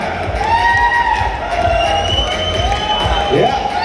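An audience at a fifth-anniversary event applauds and cheers loudly and steadily throughout, with whoops and shouting voices layered over dense continuous clapping.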